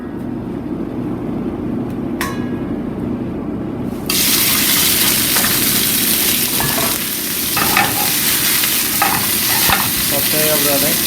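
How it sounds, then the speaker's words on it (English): Sliced renkon lotus root is pan-fried in a tablespoon of oil, starting with a quieter clatter, then a loud, dense sizzle that continues steadily, close up, with stirring scrapes and no one talking. "Saute of the Renkon, pan fry."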